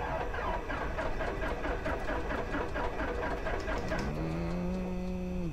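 A light aircraft engine in a flight simulator runs roughly after priming, a rhythmic, uneven chugging drone that holds steady, then a whining tone rises and settles near the end.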